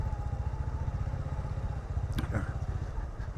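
A motorbike on Soi 6 in Pattaya early in the morning, its low, chugging engine rumble running steadily and close by the whole time, with a brief clatter near the end.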